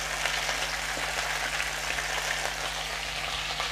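Chopped okra frying in two spoons of hot oil in a kadhai, a continuous close, even sizzle with a faint steady hum underneath and no talk.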